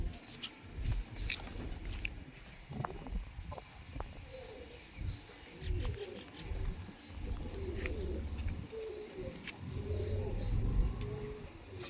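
A pigeon coos softly amid close rustling and pecking sounds, with faint bird calls and low background noise throughout.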